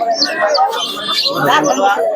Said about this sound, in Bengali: খুবই সুন্দর কোয়ালিটির কবুতর আছে